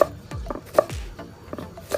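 A knife chops chilies on a board while a Thai chili paste is being prepared. Several quick, irregular knocks and cuts sound close by, with no talk.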